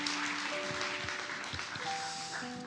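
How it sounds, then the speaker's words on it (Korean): Church congregation applauding during a Korean anniversary Sunday worship service, a short steady patter of many clapping hands under sustained organ or keyboard tones. "영광의 박수로 함께 화답하시겠습니다"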